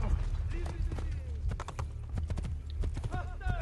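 A horse gallops in Assassin's Creed II with rapid clip-clop hoofbeats, joined by a brief whinny and game crowd noise, while someone talks over it.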